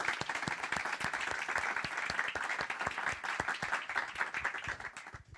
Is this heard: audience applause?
yes